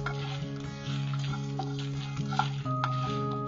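Whole spices and lentils, coriander seed, black pepper, fennel, cumin, dal and dried red chillies, are stirred and dry-roasted on a hot tawa, giving a steady close scraping rustle with faint crackle and a continuous kitchen hum underneath.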